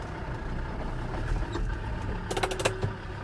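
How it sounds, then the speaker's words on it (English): An old Land Rover TD5 diesel engine runs with a steady low growl close by, with a few brief clattering knocks near the end. "I do love the sound of the old TD5 growl."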